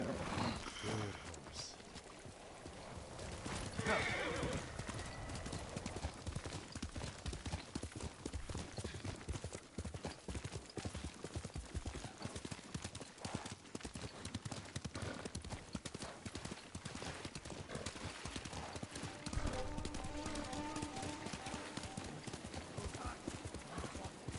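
Galloping horse hooves sound in the video game Ghost of Tsushima, a rapid continuous clip-clop beat close up through the whole stretch, with occasional neighs and a voice talking over it.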